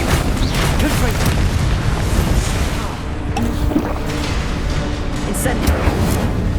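Confringo blasting spells explode in Hogwarts Legacy, deep booms and bursts rolling through a dense, loud combat mix that barely lets up over several seconds.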